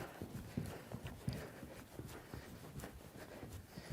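A horse walks under a rider, its hooves clip-clopping in a steady four-beat rhythm, fairly faint and close, with no talking over the footfalls.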